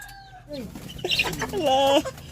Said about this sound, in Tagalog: May lahi ni siya nga manok, oh.